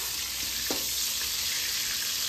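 Food sizzles in hot oil for a Diwali festival offering, a steady dense crackle with no voices.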